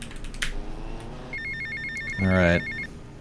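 An incoming call rings on a phone during a gaming stream, a repeating electronic ringtone tone that starts partway through, with a short burst of voice or noise briefly overlapping.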